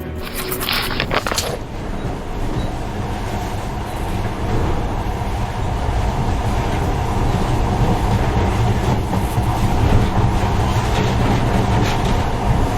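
A monorail train from the video game Metro Last Light runs steadily with a continuous deep rolling rumble and faint rail clatter, close and loud throughout, with a brief brighter burst at the start.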